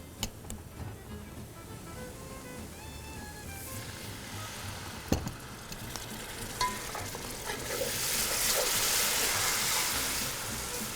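Spice masala with coriander frying for a Lahori-style mutton karahi, a steady close sizzle with stirring scrapes and occasional utensil knocks, swelling louder toward the end with no talk over it.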